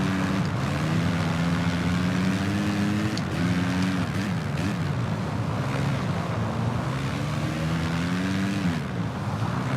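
A Honda racing motorcycle in the VR46 game revs hard around the Jerez circuit, its engine note climbing and dropping through gear changes in a loud, continuous drone with no talk.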